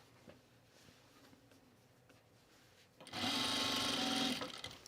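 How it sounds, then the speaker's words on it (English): A sewing machine edge stitches a seam on a pajama top, a quiet room first, then a short burst of fast, buzzing stitching up close for about a second and a half before stopping. "And then you just edge stitch."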